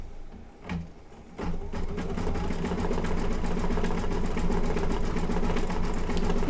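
Embroidery machine stitching a dense penguin design on a festive quilt, a steady rapid mechanical whir of needle strokes starting after a brief pause and running continuously, close and moderately loud.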